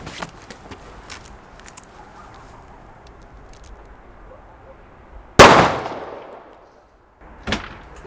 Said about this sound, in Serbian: Ma ko puca od te petarde, šta vam je?